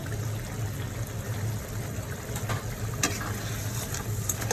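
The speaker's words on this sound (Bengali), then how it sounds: "এখন আমি একটু মানে একটা বড় টমেটো দিয়ে দিচ্ছি, টমেটো কুচি দিয়ে দিচ্ছি আর কি" Chopped tomato added to sizzling meat in a pan during home cooking, with a steady close frying sizzle and crackle, faint stirring scrapes, no talking.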